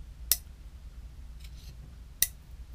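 A pair of steel scissors is handled near a magnet, giving two sharp, bright metallic clicks about two seconds apart over faint background hum.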